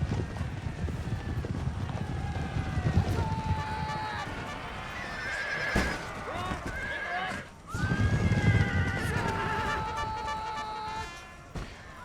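Cavalry horses in a video game battle neigh and whinny repeatedly over a dense rumble of galloping hooves and clashing combat noise, loud and continuous throughout.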